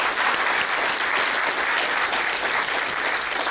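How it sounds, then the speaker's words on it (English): An audience at a Montreal AI symposium applauding event sponsors, a dense, sustained round of hand clapping from a large crowd filling the room evenly from start to finish. "Donc, une autre médaille d'applaudissement pour nos autres commanditaires."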